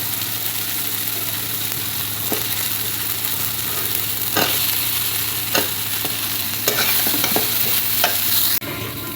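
Stuffed brinjal fries in a pan and is stirred, a steady close sizzle broken by scraping and clicking spoon strokes, with no talking.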